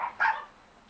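Puppies give short, high yipping barks up close, two quick bursts followed by quiet.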